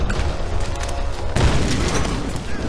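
A grenade goes off in the video game Tomb Raider, a loud booming blast about halfway through that rises over ongoing game noise, with no speech around it.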